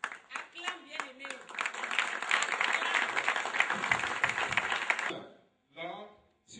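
A congregation at a French-language church service claps loudly together for several seconds, a dense, close wash of applause with voices mixed in, before it stops abruptly and speech resumes.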